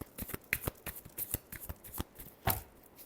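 Tarot cards being shuffled by hand in a quick burst of crisp riffling snaps and slaps, near and fairly quiet, with no talking.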